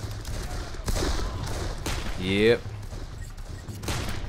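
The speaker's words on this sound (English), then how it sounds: "Except I'm getting shot at, and I'm dying." Gunfire from the Darkest of Days shooter: a few sharp shots crack over an ambient battlefield, with a brief voice speaking and a rising whistle-like tone in the middle.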